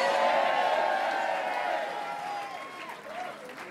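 An enthusiastic crowd at an Australian federal election night speech applauds and cheers in a dense, sustained roar that slowly fades, with a voice speaking over it.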